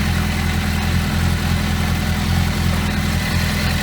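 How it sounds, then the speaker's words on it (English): A Bandit motorcycle engine idles steadily while warming up after a service, a close, even, throbbing rumble that holds constant throughout with no revving. "What we're doing is we're letting the engine warm up again"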